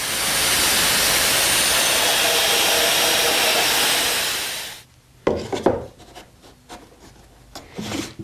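A power drill bores 35mm diameter holes through a wooden board for a chicken coop, a loud steady grinding whir lasting several seconds that cuts off abruptly, followed by scattered knocks and handling clatter.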